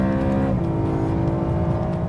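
A 2011 BMW M3 engine roars loud and close under acceleration, with a gear change shifting the pitch of the steady growl partway through, and no talking.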